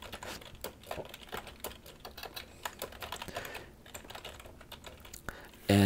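Keystrokes on a computer keyboard tap out in quick irregular bursts, close and fairly crisp, with a louder click near the end; no talking over it.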